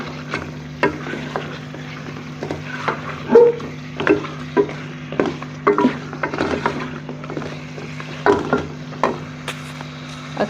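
Fish heads frying in a pan with potatoes and spices: a steady sizzle under repeated scraping and stirring strokes, with a low continuous hum running beneath.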